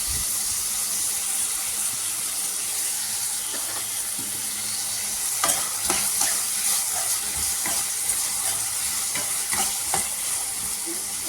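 Tomatoes cooking down in a pan with salt give a steady, loud hiss of frying, with a run of scraping, clattering stirs breaking in partway through. No one speaks.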